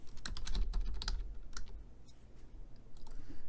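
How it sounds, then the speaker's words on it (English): Rapid keystrokes on a computer keyboard while entering text in SOLIDWORKS software, a quick flurry of close clicks at first, then sparser taps, with no talking. "You can type in there"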